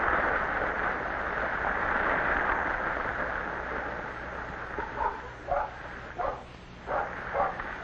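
A mother dog, Mack, out by the water with her seven puppies gives a short run of about five yips and barks in the last few seconds, rising over a steady broad wash of surf and wind.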